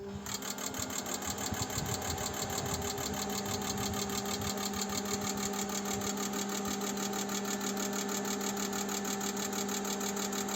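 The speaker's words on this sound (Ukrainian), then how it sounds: "Поставили на стенд форсунки, запускаємо." Kia Cerato fuel injectors firing on a test bench give a steady, rapid mechanical ticking buzz with a constant hum underneath, loud and unbroken throughout.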